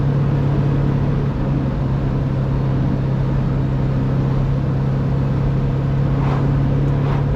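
A 1966 Alfa Romeo Giulia Sprint GT Veloce with no power steering on the move, its engine a steady loud drone with constant road and cabin rumble throughout, no talking.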